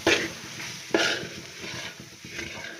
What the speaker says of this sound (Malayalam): തീ കുറച്ച് വെച്ച് നമുക്കിതൊന്ന് മൂപ്പിച്ചെടുക്കാം.